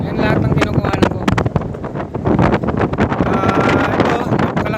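Strong wind buffets the microphone atop a tower in Tagaytay, loud continuous gusting with sharp repeated thumps and rumble, some faint voice underneath.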